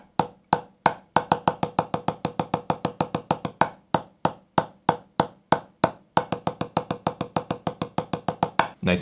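Single stroke roll rudiment on a drum, four eighth-note strokes on the right hand, four on the left, then a bar of sixteenth notes, crisp close hits in an even rhythm that doubles in density, with the pattern repeating.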